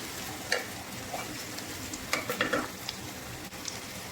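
Aromatics sauté in a hot pan for chicken wings adobo, giving a steady close sizzle broken by a few scraping stirs of the utensil.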